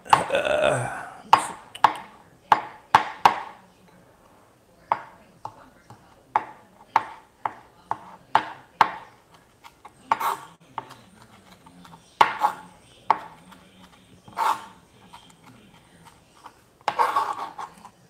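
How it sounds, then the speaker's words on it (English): A knife chops fresh dill weed on a board in a home kitchen, with sharp, close, irregular clusters of blade taps separated by short pauses throughout. "I'm gonna chop this up. Once again, this is fresh dill weed"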